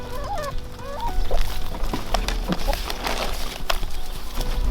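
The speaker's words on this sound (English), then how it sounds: "These barred rock roosters here" Barred Rock roosters on a homestead give hoarse, honking calls close by, mixed with other clucks and farmyard noise over a steady outdoor rumble.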